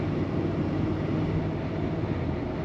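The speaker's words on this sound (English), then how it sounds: "Fairly stock sound to this truck." A 1994 Chevrolet Silverado regular cab 4x4 pickup with a fairly stock exhaust drives along, its engine giving a steady, broad low rumble mixed with road noise from inside the cab, with no voices.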